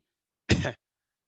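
A single short, sharp cough or throat-clear, close and fairly loud, then silence.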